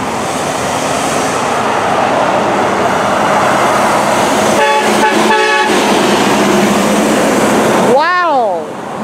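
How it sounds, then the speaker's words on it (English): An International truck air horn blasts in a short broken run of honks midway, rising over steady road and engine noise, followed by a sweeping tone near the end. "Sound like a very foul international air horn."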